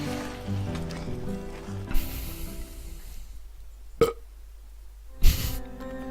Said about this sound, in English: Kaido cleans his plate and then rests a hand on his stomach and lets out a loud belch